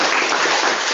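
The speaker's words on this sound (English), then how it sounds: "So quick round of applause, if you don't mind" Dense, even clapping from an audience at a talk on AI-generated art, a continuous round of applause filling the whole short moment without any voice over it.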